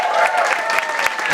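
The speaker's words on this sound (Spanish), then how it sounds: "Vamos aplaudir ao Senhor" A church congregation claps for the Lord during a service, a brief burst of dense hand claps from a crowd, with a voice faintly speaking over it.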